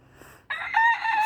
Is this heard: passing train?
no